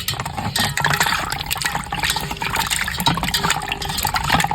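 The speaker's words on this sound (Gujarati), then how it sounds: "બીજી વાર આપણે પાણી નાખીને ધોવા માંડ્યા છીએ" Water splashing and sloshing as sea vegetables are washed a second time in a container, a busy, uneven run of close pours and swishes with no talking.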